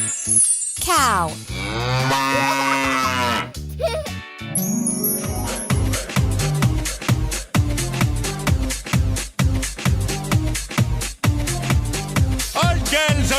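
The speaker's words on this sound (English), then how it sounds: "Cow." A cow gives a drawn-out moo early on, then a rhythmic musical track with beats and chimes takes over and runs to the end.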